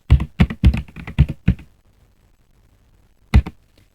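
Python code being typed on a computer keyboard: a quick run of about seven sharp, close key taps, a pause of nearly two seconds, then two more taps.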